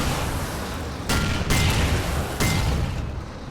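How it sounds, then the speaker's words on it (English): Explosions in the video game Alan Wake, a run of three heavy booming bursts over a constant rumbling bed, loud and close, with no voices over them. "That was a lot of explosions."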